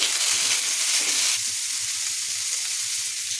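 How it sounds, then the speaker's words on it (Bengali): Potatoes and onion frying in a pan as they are stirred, a steady broadband sizzle with soft scraping knocks from the stirring, fairly close and continuous, easing slightly after the first second. "এবার আলুগুলো দিয়ে দেবো, আলুগুলো নেড়ে নেবো।"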